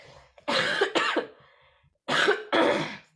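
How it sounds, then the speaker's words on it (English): Two pairs of close, sharp coughs, each double cough separated by a short pause. "while you're doing that, I'm gonna cough."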